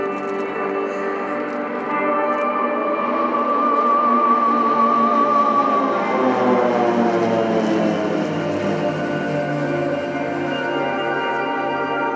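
A PC-17 propeller aircraft flies an airshow display at RIAT 2018 at Fairford, a loud, steady engine drone that slowly shifts in pitch as it passes, with no voices.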